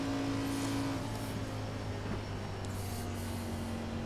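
Race cars in a racing video game at Pocono Speedway whine and drone steadily with faint tyre and motor tones, a continuous low hum of cars at speed without any voices.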